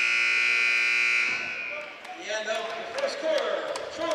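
A long, loud, flat electronic buzzer blares in a gym, ending the first quarter of a high school boys basketball game, then cuts off into crowd noise, squeaking shoes and a commentator talking.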